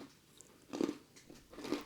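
Crunchy chocolate biscotti bitten and chewed close up, a few soft crisp crunches spaced across under two seconds, fairly quiet with no talking.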